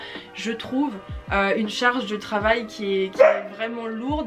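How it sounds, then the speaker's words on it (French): A dog barks and yips repeatedly indoors, close and fairly loud, mixed in with a person speaking continuously over it. "excusez-moi pour le chien"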